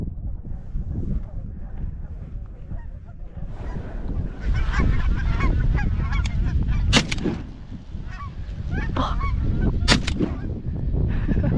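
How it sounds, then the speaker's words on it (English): Geese honk at a small cow pond outdoors, repeated sharp calls over wind buffeting the microphone, with some quieter honks farther off and a voice speaking briefly. "there was ducks and goose in these little cow ponds"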